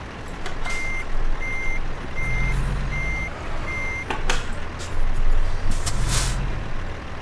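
Reversing beeps from a truck backing up a trailer in American Truck Simulator repeat in a steady rhythm of evenly spaced pulses over a low engine rumble, with short bursts of air hissing between them.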